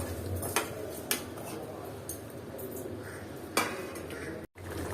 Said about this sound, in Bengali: আর মাছটা আমি আবার একটু নেড়ে চেড়ে দিলাম